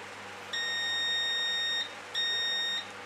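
A multimeter continuity tester used while making power leads beeps with a clear high-pitched tone, two beeps, a long one of over a second and then a shorter one, against quiet room noise.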